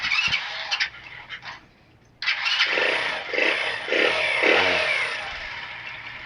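An RPS Racer 140 motorcycle with a handlebar choke cranks briefly, pauses, then fires up and settles into a steady, fairly quiet idle with a few throttle blips, heard up close.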